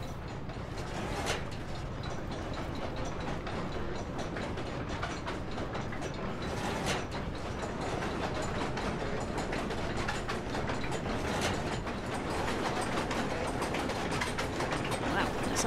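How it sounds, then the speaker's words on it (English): A puzzle noise machine hums and rattles in Amnesia: The Dark Descent, a continuous mechanical churning like turning gears, fairly quiet and steady throughout. "the noise machine sounds pretty quiet"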